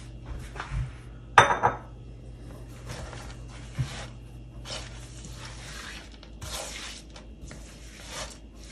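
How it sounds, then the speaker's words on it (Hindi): Chopped walnuts are tipped into a pan of ghee-rich halwa, starting with a sharp metallic clatter and scrape, then soft stirring and sizzling scrapes, close and moderately loud. "अब हम डालेंगे इसके अंदर अखरोट।"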